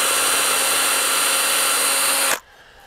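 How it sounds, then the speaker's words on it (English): A power drill boring a small guide hole through a flat plate of recycled raised-bed wood, whining steadily and loudly for about two seconds before cutting off abruptly. "I'm drilling a small guide hole"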